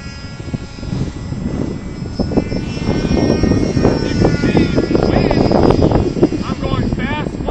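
A Depron foam radio-controlled model F-14 jet flies overhead, its small motor whining and buzzing steadily with rising and falling pitch as it passes, while people talk nearby over outdoor wind noise.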